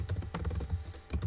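Quiet, rapid keystrokes on a computer keyboard patter in short irregular bursts, close by and alone.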